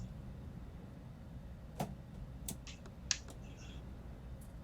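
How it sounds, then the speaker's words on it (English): Cockpit switches flipped off one after another in a flight simulator, a few sharp, faint clicks spaced irregularly over a quiet low hum, no talking. "All the switches going off."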